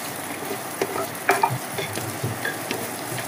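Meat bones and feet fry in a pot while a utensil stirs them, giving a soft, continuous sizzle. Scraping clatters break through at intervals, and no one speaks.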